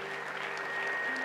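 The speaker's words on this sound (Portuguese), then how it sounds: "aplauda bem forte a Jesus" Church congregation applauding in a steady, dense wash of clapping that fills the short clip at moderate loudness, with a faint tonal hum underneath.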